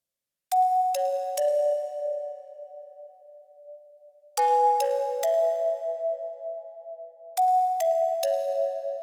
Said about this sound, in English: Starting with the bell lead.